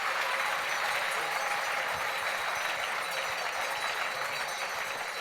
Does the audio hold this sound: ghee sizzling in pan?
no